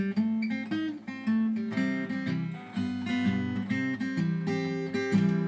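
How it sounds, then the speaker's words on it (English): A bluesy acoustic guitar lick, with quick hammered and pulled notes over a picked bass line, played alone and up close at moderate volume. "hammer-on pull-off with his pinky"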